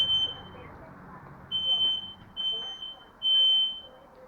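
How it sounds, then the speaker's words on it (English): A household smoke alarm sounds with a series of sharp, high electronic beeps in uneven bursts, loud and close indoors, with faint background noise between the tones. "The smoke alarm is sounding on"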